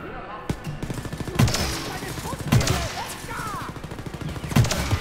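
A weapon said to melt enemies fires in the video game Wolfenstein: Youngblood, giving rapid repeated shots with heavier thumping blasts at regular intervals, loud and close.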